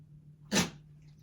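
A single short, sharp sneeze bursts out once at moderate volume over a steady low hum in an otherwise quiet room.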